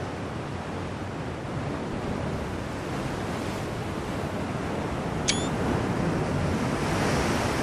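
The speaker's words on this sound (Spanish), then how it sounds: "Como rompen las olas" Ocean waves breaking in the naval game Ultimate Admiral Dreadnoughts, a continuous loud wash of surf and wind with no talk, and one brief sharp click partway through.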